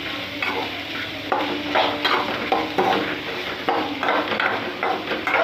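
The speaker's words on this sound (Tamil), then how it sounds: "வெங்காயம் எல்லாமே போட்டு வதக்கிட்டேன்" Onions and carrot sautéing in a pan for chutney, loud repeated scraping and clinking of a spatula against the pan over a constant sizzle, in an uneven stirring rhythm.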